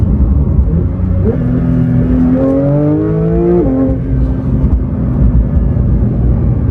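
A Porsche GT3 engine revs hard toward 9,000 RPM, its rising harmonics climbing in a loud, sustained wail before dropping back to a steady rumble, close and alone.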